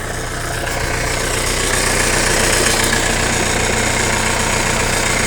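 A steady, loud tractor engine idles close by with a low rumbling drone and a faint knocking rhythm, continuous throughout with no talking.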